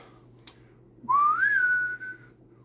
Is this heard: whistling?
yes